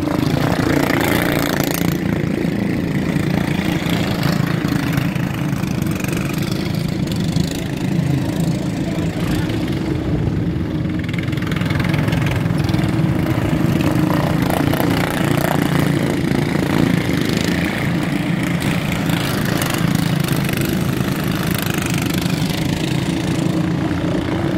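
A John Deere lawn tractor engine idles out front with a steady, loud, low mechanical drone that runs unbroken throughout, with no clear speech over it.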